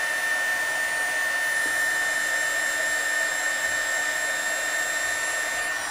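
A heat gun blowing hot air over heat shrink tubing on a cable gives a steady, loud, even whoosh from start to finish, with a brief spoken remark over it.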